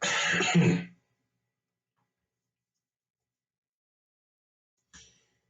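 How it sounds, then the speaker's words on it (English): A single rough throat-clearing cough up close, then near silence, with a brief faint sound near the end. "forgive the coughing"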